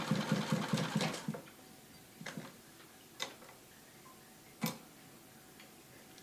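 A sewing machine stitches organza in a quick rapid burst of ticking, then stops, followed by scattered faint isolated clicks and taps in a quiet room.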